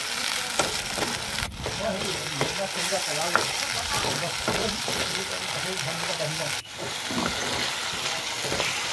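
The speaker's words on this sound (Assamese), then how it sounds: "ব্ৰইলাৰ মাংস মই ভাজিবলৈ লৈছোঁ প্ৰথম পিঁয়াজখিনি দিলোঁ" Broiler chicken and onions frying in a home kitchen, a dense continuous sizzle with repeated stirring scrapes close by, while a person talks over it.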